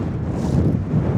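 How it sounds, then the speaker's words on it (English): A strong wind buffets the microphone on a bleak Cumbrian coast near abandoned boats, as a brief, steady, low roaring rush with no voices. "it is very, very windy."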